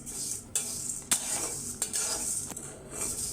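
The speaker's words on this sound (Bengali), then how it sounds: "আমি এটাকে ভেজে ব্রাউন কালার করে নিব।" Semai vermicelli frying in a pan until brown, with a steady bright sizzle and a few sharp scrapes and clinks of a utensil stirring against the metal, close and alone.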